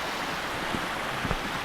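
A river on the trail to Fifth Water hot springs rushes in a broad, steady roar of flowing water, with a few faint bumps and knocks close to the microphone.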